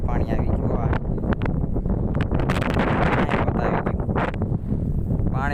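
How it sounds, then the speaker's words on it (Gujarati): Strong wind blows steadily across a filled village pond during rain, roaring and buffeting the microphone as someone talks over it. "પવન બહુ કાઢે છે. મારો અવાજ થોડો ઓછો આવતો હશે."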